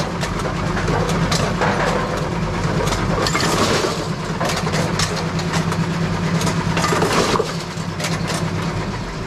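A Brunswick bowling pinsetter running a respot cycle, a loud continuous mechanical clatter and rumble of pins and machinery with rattling impacts throughout, close and unbroken, no speech.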